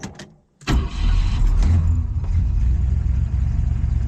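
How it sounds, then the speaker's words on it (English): A 1969 Ford Fairlane engine hot-starts after a short quiet gap, catching quickly and settling into a loud, steady, rumbling idle close by. "what does the hot start like?"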